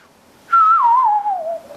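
A pure sine-wave synth lead in an early-2000s West Coast hip hop style, sounding just like a whistle, glides down in one sustained sliding phrase, loud and clear on its own with nothing else playing.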